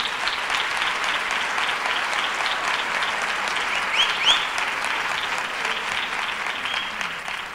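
Strong audience applause for a composer at a live copla and ballad performance, dense continuous clapping from a crowd sustained evenly throughout, with a brief whistle-like accent midway and no talk.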